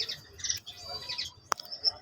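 Finches chirping nearby, several quick high tweets and short calls scattered across a brief stretch with small gaps between them.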